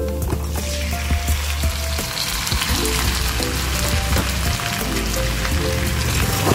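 Chicken pieces hit a pan of sautéed white onion and fry with a loud, close, continuous sizzle, crackling and spattering steadily for several seconds with no talking.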